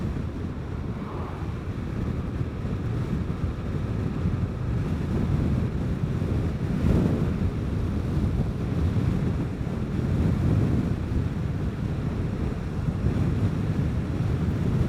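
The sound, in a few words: wind blowing while riding a Vespa GTS 300 scooter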